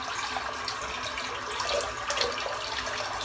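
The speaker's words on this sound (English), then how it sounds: "I'm just going to fill the bowl up while I'm talking" Tap water runs steadily into a shaving bowl, a close, even hiss and splash that holds throughout without a break.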